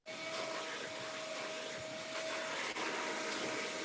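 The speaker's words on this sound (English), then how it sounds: "Can you mute whoever has the vacuum or whatever it is going in the background?" A vacuum cleaner runs steadily in the background of a call, a continuous broadband whoosh with a faint tonal whine, unbroken for the whole stretch.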